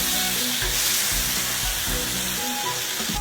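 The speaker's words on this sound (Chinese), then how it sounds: "辣椒煎成虎皮了，捞出来。" Chili peppers blister in hot oil in a wok, giving a loud, dense, continuous sizzle and hiss up close with some stirring, no voices.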